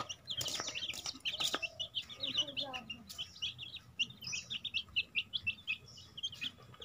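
Village chickens and chicks, soft clucking and a dense stream of high, rapid peeping chirps close by, with a person speaking briefly over them at the start.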